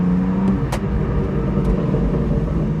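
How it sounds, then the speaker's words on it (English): A BMW M4 GTS or Jaguar F-Type SVR exhaust burbles and pops as the throttle lifts, with a few sharp crackles over a low, rumbling engine. "Oh, those burbles when you let off the accelerator."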